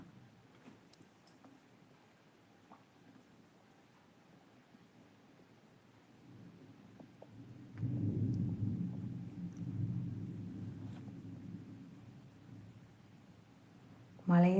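Thunder rolling in the sky before a storm, a faint, distant low rumble that swells for several seconds and then fades, with quiet background noise and a brief voice at the very end.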